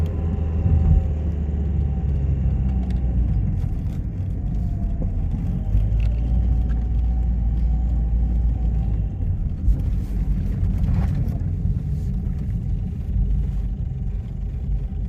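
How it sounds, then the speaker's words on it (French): A 1992 Peugeot 605 SLD diesel car rolls along on a test drive, with a steady low engine and road rumble heard from inside the cabin throughout and no talk. "ce tour d'essai de cette Peugeot 605 SLD"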